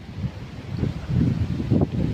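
Wind gusting outdoors at a fishing pond: low buffeting rumble against the microphone that swells in uneven gusts, fairly close and loud, with no talk.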